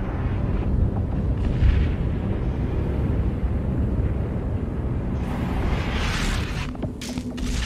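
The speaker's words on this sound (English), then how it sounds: "you hear those muffled booming sounds? They're about to be not so muffled" Deep explosions boom continuously in the side-scrolling video game Inside, a dense, rumbling barrage with heavier blasts toward the end, loud and close with no voices over it.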